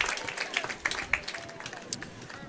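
Audience applause in the stands at a high school football game on senior night, North Tama against Wapsie Valley; a moderate spread of clapping from a crowd at some distance, steady with small bursts throughout.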